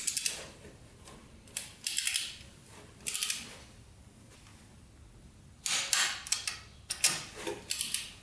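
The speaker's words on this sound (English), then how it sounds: "now we're going to torque it to 29 foot-pounds now." Torque wrench on the bolts of a cheap quad bike, tightened in a crisscross pattern to 29 foot-pounds: several separate bursts of close mechanical clicking and ratcheting with short quiet gaps between them, and no talking.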